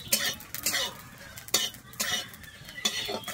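Whole coriander seeds dry-roast in a pan, a soft rattling crackle broken by several scraping stirs of a spoon against the metal, close and fairly quiet.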